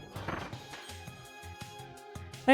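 A flower being smashed in Kirby and the Forgotten Land, heard as a quick series of short game hits and crashes over a tonal music bed, ending in a louder burst.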